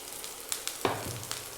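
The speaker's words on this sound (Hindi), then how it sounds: "और सभी चीज़ों को भून लेते हैं अच्छी से।" Vegetables and sweet corn sizzle in a pan for pasta, a soft continuous frying hiss broken by a few light clinks of stirring, close and fairly quiet.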